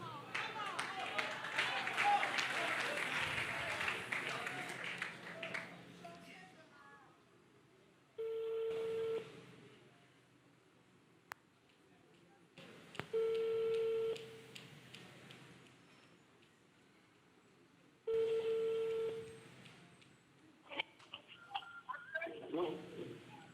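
A telephone call dialed on speakerphone in Kinshasa: brief dialing tones, then three evenly spaced ringing tones several seconds apart, clear and fairly loud after a stretch of people talking over a noisy room.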